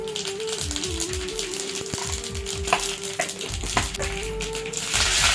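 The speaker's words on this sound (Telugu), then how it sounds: "ఇప్పుడు వేడిగా ఉన్న ఈ నూనెలోకి ఆవాలు వేసుకుందాం." Mustard seeds land in hot oil for tempering and crackle and pop in quick, irregular bursts over a constant sizzle, alongside a faint tonal hum and a few sharp taps nearby.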